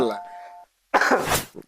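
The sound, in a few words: cough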